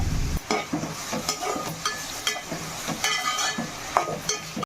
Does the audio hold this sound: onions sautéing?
yes